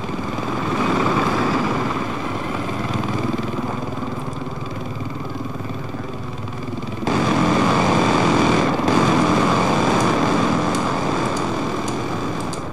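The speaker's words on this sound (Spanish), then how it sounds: "Pues yo voy a con el helicóptero, hombre." A helicopter in the video game Battlefield 4 gives a continuous loud rotor and engine roar with rhythmic chopping, swelling sharply partway through and staying strong, with no talk over it.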